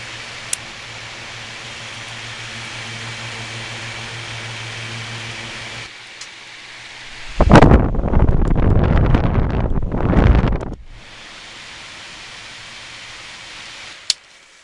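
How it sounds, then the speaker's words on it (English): A large fan, very quiet but moving a lot of air, as a possible greenhouse exhaust fan: a soft steady hum, then a few seconds of loud rushing air close to the microphone before it settles back to a quiet background hiss. "I think it's a pretty cool fan."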